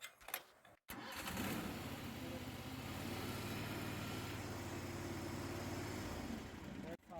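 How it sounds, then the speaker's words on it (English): A cheap Chinese articulated mini loader's engine cranks and catches after a short mechanical clatter, then runs at a steady, loud, close idle for several seconds before cutting off abruptly. "That's how you start the machine."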